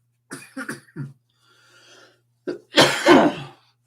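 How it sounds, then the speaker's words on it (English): Several sharp, close coughs in quick succession, a short quiet pause, then a loud, harsh burst of coughing. "all this talking's got me coughing now"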